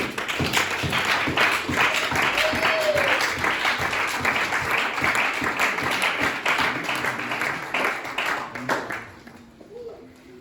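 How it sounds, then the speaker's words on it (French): A church congregation at a Sunday worship service applauds steadily and loudly for several seconds, then the clapping thins out and fades near the end, with voices heard faintly under it. "Nous continuons à acclamer Jésus"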